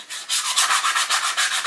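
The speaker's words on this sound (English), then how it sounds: "give it a good hand sand." Sandpaper rubs by hand along the edges of a wooden boomerang in quick, steady back-and-forth strokes, a loud close scratchy rasp repeating about every tenth of a second with no talking.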